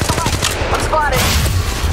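Rapid gunfire bursts in Apex Legends Mobile crackle loud and close in quick succession, with a faint game voice underneath.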